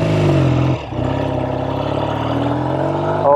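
A 1970 Triumph Tiger 650 TR6R motorcycle idling up close, its loud, even engine note dipping briefly and then climbing as it is blipped near the end.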